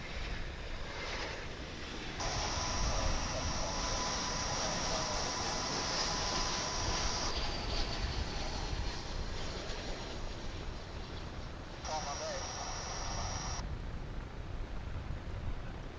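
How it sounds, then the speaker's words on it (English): American Airlines Airbus A321 arriving from Tucson, landing at Dallas Fort Worth airport: a broad steady jet roar with a high engine whine rising and fading over about sixteen seconds, heard outdoors over wind noise. "This is American Airlines Flight 2193 coming in from Tucson, Arizona. It's an Airbus A321."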